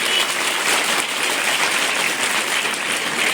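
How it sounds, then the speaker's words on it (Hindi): Students at a school welcome on the first day applaud loudly for themselves, a dense, even roar of clapping that stays strong throughout. "तो एक बार आप खुद के लिए जोरदार तालियां हो जानी चाहिए"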